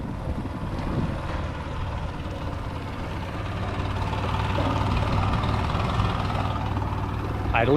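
A 50hp Yamaha outboard motor idles on a Smoker Craft boat at a local lake, a steady low engine hum with some wind noise that grows slightly louder toward the end.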